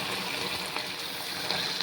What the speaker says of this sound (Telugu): దీంట్లోకి ఒక గ్లాస్ వాటర్ పోయాలండి.